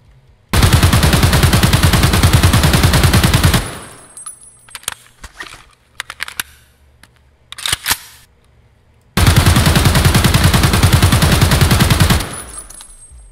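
AK-105 rifle in Escape From Tarkov firing two long sustained full-auto bursts, each about three seconds, loud and close, separated by quieter handling clicks and rattles.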